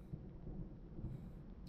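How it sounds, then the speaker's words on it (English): Low, faint thunder rumbles steadily in the distance with a hint of rain hiss, heard alone without speech. "Oh, it's thundering again."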